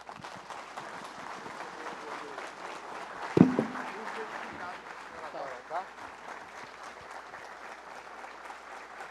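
A standing audience applauds a science and technology minister's speech with sustained, even clapping, and a louder burst or thump rises briefly near the middle.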